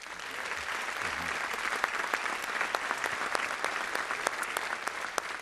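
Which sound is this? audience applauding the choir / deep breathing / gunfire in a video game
audience applauding the choir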